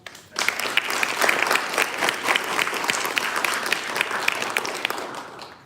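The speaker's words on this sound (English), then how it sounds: "let's give him a round of applause" A seated audience breaks into steady, dense applause at the closing ceremony of an exhibit, starting abruptly and continuing evenly at full strength with no talking over it.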